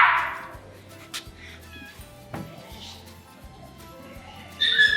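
Small kittens at a horse rescue shelter give a few high, thin meows, loud at the start and again near the end, with soft background noise and a scrape or bump partway through.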